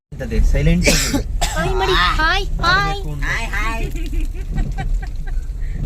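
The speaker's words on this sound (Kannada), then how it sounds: "ಕೆಮ್ಮು ಜಾಸ್ತಿ ಆಗ್ಬಿಟ್ಟೈತೆ ಫ್ರೆಂಡ್ಸ್" A person with a heavy cough coughs harshly a few times near the start, and a voice talks over and after the coughing.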